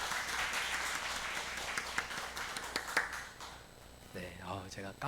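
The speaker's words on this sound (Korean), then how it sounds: "우리 잠깐만 자리에 일어나시면 더 큰 박수로 우리 축복하도록 하겠습니다." A church congregation at an Easter Sunday service applauds together in a steady wash of clapping that fades toward the end as a voice begins speaking.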